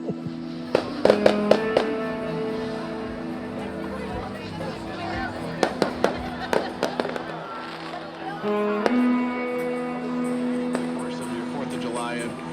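Fireworks display launched from a barge on the water near Okoboji for Independence Day Eve, with a series of sharp bursts and crackling pops over steady crowd chatter and talking.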